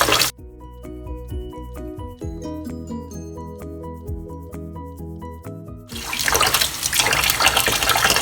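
Pig large intestine gets a final rinse under running water, a tonal passage giving way after several seconds to a loud, close gush of water with splashing.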